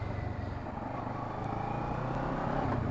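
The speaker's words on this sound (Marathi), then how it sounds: "पहिलाच एक्सपिरियन्स आहे वर्सेस 650 चालवण्याचा" A Kawasaki Versys 650 motorcycle rides with a steady engine drone that builds gradually in loudness as it pulls, heard up close with no talk over it.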